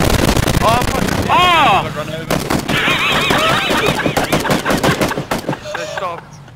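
Uzi gunfire in PUBG, loud rapid bursts mixed with other shots, under excited shouting and talk from players.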